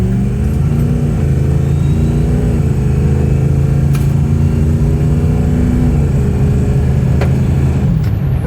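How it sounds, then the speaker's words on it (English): A Ford Powerstroke 6.0 diesel truck on an economy tune accelerates flat-out from 0 to 60, its engine a loud, steady drone that rises in pitch through gear changes, heard from inside the cab. "So just a 0 to 60 flat foot on an economy tune."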